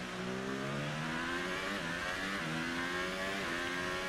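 Formula 1 car engine in the F1 2018 racing game at the Austrian Grand Prix, a loud continuous high-pitched whine that rises in pitch through the gears, with short drops at upshifts.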